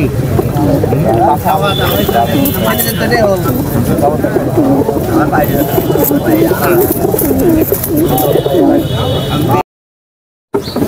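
Pigeons coo in soft repeated murmurs amid a noisy crowd of people talking at a pigeon market in Katakhali, Rajshahi, ending with a brief moment of silence.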